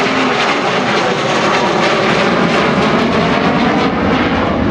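An Avro Vulcan bomber flies past at an air display at RAF Waddington, its jet engines a loud, steady, broadband roar that fills the whole stretch with no talking over it.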